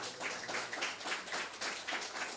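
A congregation at a Pentecostal Baptist church service claps for Jesus, a dense, fairly faint stretch of applause with slightly pulsing rhythm and no voices on top.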